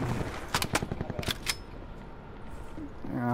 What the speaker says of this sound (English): Shoot him, Clutch!